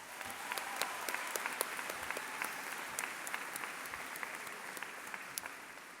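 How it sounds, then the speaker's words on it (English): A graduation crowd at Algonquin Regional High School claps for a student speaker, giving a continuous, moderately distant wash of many hands with occasional sharper individual claps standing out across six seconds. "Can we have another round of applause for Chris?"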